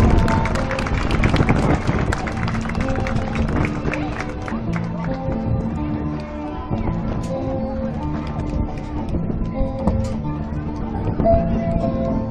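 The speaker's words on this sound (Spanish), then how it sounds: "Fuertes aplausos." An audience at a spring festival entrance parade applauds and cheers continuously, with music playing and crowd noise around it.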